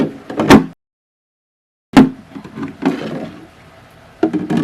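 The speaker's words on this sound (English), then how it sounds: "So when you slide the drawer like that" An acrylic organizer drawer slides twice, each a short, close, hard scrape, with a gap of silence between them and a little handling noise after the second.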